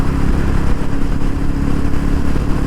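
A Royal Enfield Meteor 350 motorcycle cruising in fifth gear gives a steady, loud engine drone with low thrum and road and wind rush, holding constant without pauses or voices.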